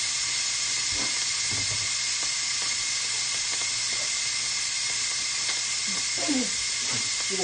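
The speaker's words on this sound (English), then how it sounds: "I'm going to go ahead and release the steam out of here" Steam rushing out of the release valve of a quick cooker making vegan vegetable soup, a loud continuous hiss throughout with faint clicks and knocks underneath and no talk.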